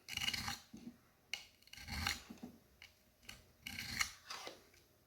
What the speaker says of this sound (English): I set that angle and I just sharpen.